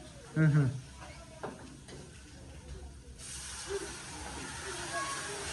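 Onion and garlic sizzling as they fry in a pan, a steady hiss that grows broader and brighter partway through, with someone talking over the first half.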